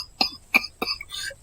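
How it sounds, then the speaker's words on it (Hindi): A man coughs in three sharp, close bursts, each a short broadband hack with a throaty edge, separated by brief pauses, alone with no talk. "वो बहुत खांस रहा होता है।"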